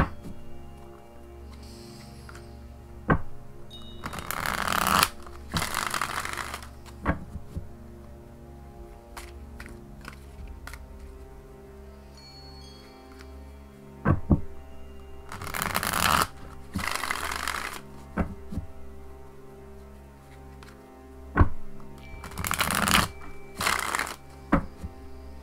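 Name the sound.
shuffling tarot cards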